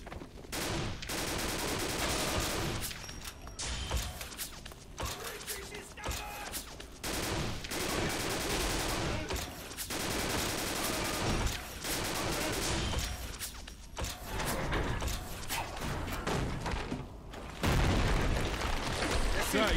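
Dense gunfire and explosions in 50 Cent: Blood on the Sand, near-continuous loud volleys with booms, layered with game voices and music throughout.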